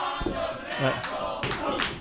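A crowd at an indie wrestling training show chanting about wrestler Alonso, several rhythmic shouted syllables from many voices at moderate distance, with a few thumps.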